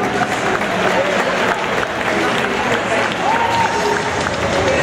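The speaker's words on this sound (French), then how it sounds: "les applaudir, mesdames et messieurs" An audience applauds dancers Val and Eric at a 2012 world dance championship, with sustained clapping from a large crowd in a hall, dense and fairly loud throughout, mixed with crowd murmur.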